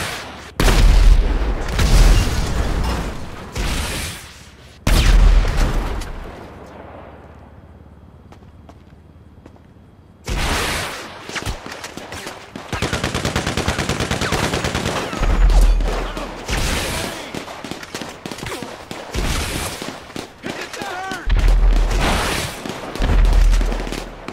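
Gunfire in GTA V comes in heavy bursts of rapid shots and booming blasts, loud and close, broken by a short lull and then resuming in repeated volleys.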